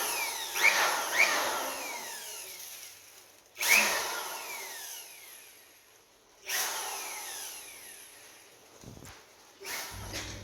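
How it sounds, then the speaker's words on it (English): Pro'sKit UMS-C002 electric blower switched on in several short bursts, each a sharp rising whoosh of rushing air that fades away, with brief clicks and handling noise between. "It's a pretty strong blower"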